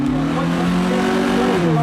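An Austin Cooper's small engine revs and pulls away at a hillclimb, its pitch climbing steadily in a short, loud burst.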